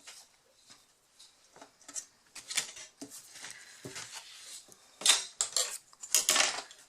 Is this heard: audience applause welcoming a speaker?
no